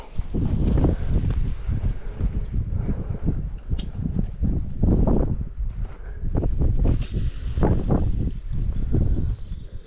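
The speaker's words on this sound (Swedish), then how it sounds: "Blåser så här mycket" Strong mountain wind buffets the microphone during a fishing trip in the Swedish fells, gusting in loud, uneven surges with rumbling low roar and brief rustles throughout.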